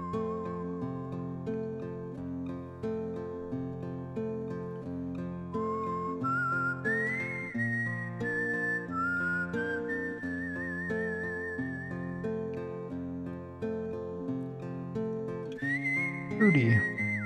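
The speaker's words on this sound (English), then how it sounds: "Some of the best whistling music, too." Whistled melody from the PS1 role-playing game Wild ARMs carries a clear, wavering tune over soft backing music, steady and moderately quiet throughout.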